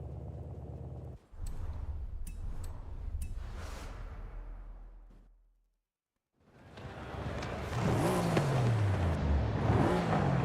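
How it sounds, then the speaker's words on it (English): Turbocharged car engine in Forza Horizon 5, loud and close, revving through a few sharp bursts, dropping to a brief silence, then roaring back with a rising, whooshing spool and bassy, sustained throttle. "So we can hear those turbos spool and suck in all that fresh air"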